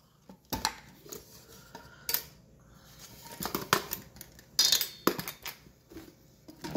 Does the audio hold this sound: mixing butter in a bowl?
yes